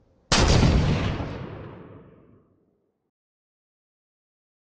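A single loud cartoon gunshot blasts out and then rolls away in a long decaying boom, leaving near silence.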